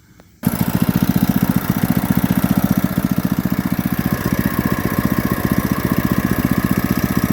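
An old Carter go-kart's small engine, abandoned for years, starts up after a quiet moment and runs steadily close by with a fast, even, chugging putter.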